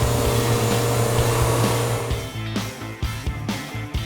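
A CNC machine starts cutting wood for a guitar body, a loud, steady whine and roar that breaks into rhythmic surging bursts near the end as the cutter bites in.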